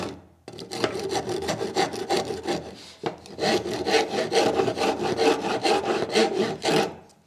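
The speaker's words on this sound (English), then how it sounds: "And you can clean it up with a rasp." Rasp filing across wood in quick, steady back-and-forth strokes, loud and close, with a short pause near the start and another midway before the scraping rhythm resumes.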